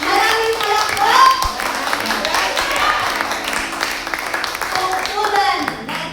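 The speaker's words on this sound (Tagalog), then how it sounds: "Palakpakan po natin ang ating buhay na Amang. Maraming palakpak!" A congregation at a religious gathering claps together, loud and close, with a melodic voice and children's voices mixed in, the clapping steady before fading near the end.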